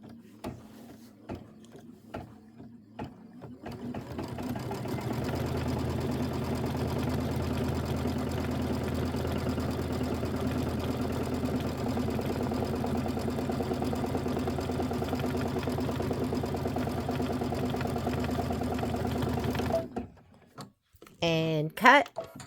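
A quilting machine stitches a quilt border with a steady, dense mechanical whir that runs about fifteen seconds. A few scattered clicks come before it, and it stops abruptly.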